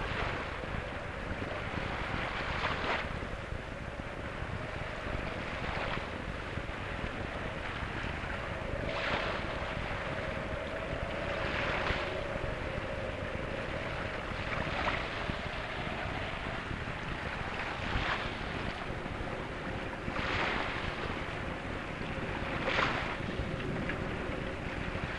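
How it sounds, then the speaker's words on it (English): Steady wind rushes and water washes around a sailboat racing on open water during a regatta at Kingston, a continuous broad roar with periodic swells and gusts, no voices. "winds for sailing thrills, the rolling waves of open water for surfing, yet all within easy reach of shore"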